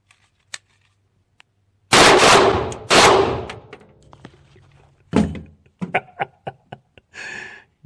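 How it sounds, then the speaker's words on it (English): Two loud, close 22 TCM pistol shots about a second apart, firing rounder-nose bullets at an outdoor range, followed by their echoes and then a burst of sharp clicks and small knocks. "Stand by for some bang bang."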